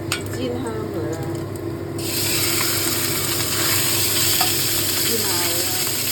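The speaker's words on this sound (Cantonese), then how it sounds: "煎香佢啦，" Grass carp pan-frying for a winter melon and tomato fish soup, a steady close sizzle that suddenly grows louder and brighter partway through and keeps crackling, with light scraping of a utensil in the pan.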